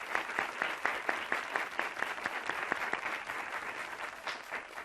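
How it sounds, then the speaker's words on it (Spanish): Studio audience on the 1988 Spanish TV game show El tiempo es oro claps for a contestant, a moderate, evenly paced wash of hands with individual claps standing out, continuing steadily throughout without voices. "y yo creo que don Lorenzo se merece un aplauso de simpatía y de reconocimiento."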